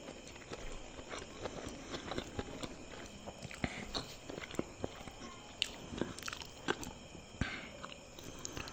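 Chewing and biting on Chama takeaway food, a single portion with chopsy, chili paste and bullseye egg, close and quiet, with soft crunches and scattered clicks of eating spread through the stretch and no talk.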